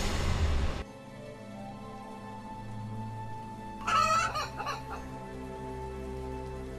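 A chicken in a video game gives a brief burst of squawking clucks midway, loud and close, over steady game music after an opening noisy rush.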